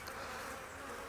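Honey bees drone steadily across a hive frame, a dense continuous buzz close by with no pauses and no voices over it.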